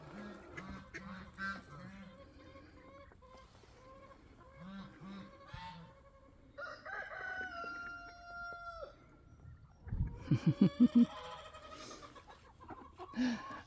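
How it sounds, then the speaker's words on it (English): Backyard chickens, including a gray hen, cluck steadily while a rooster crows with a drawn-out call, followed by a burst of loud honking calls, all nearby and without talk. "I don't know what kind of chicken this gray one is, but she is colored so beautiful."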